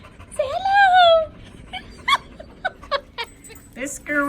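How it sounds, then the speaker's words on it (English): A blue heeler, a black dog, gives a drawn-out high whimper near the start, then short yips and whines come and go in brief bursts with a person talking between them. "This girl right here is a blue heeler, our black dog."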